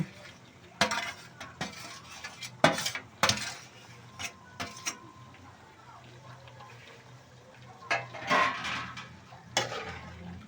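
Chicken kuruma masala being stirred in a pot, a spoon scraping and knocking against the metal in scattered clanks and scrapes, fairly close, with a faint low background hum.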